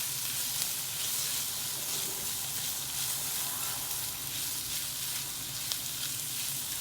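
Ingredients fry in oil in a clay pot for a traditional Kerala fish curry, giving a steady, even sizzle and crackle, close and alone with no talk.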